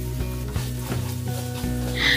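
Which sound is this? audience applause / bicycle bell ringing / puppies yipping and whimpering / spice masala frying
spice masala frying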